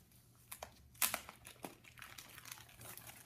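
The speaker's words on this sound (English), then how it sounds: "We're just going to untape one side of our wax paper." Wax paper peeled and untaped from a building board for a model bridge, giving several soft crinkling and tearing rustles close by, with a sharper crackle near the middle and quieter rustling after.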